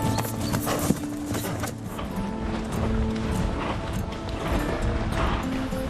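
Horse hooves clip-clop steadily through a riding training session for a para-equestrian rider, the footfalls continuous and fairly close against a dense background of arena noise.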